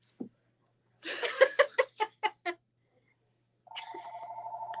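A telephone rings in a fabric and quilting shop, its steady electronic trill coming in toward the end after a short burst of laughter and chuckling nearby.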